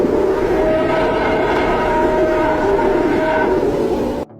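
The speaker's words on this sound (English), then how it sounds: "more precisely of solar wind particles captured by the Parker Solar Probe." Solar wind particle data captured by the Parker Solar Probe is rendered as sound, a loud, steady, dense rushing roar with a faint whistling tone running through it, cutting off abruptly at the end.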